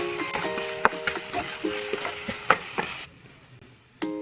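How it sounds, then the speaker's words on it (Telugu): Coriander leaves frying with onion masala paste for fish fry, with a loud sizzle and repeated scraping, clinking stirs of a spoon in the pan, a short quieter gap near the end, then stirring resumes. "ఇందులో కొంచెం కొత్తిమీర వేసి కొంచెం వేపించేస్తున్నామండి ముద్దతో."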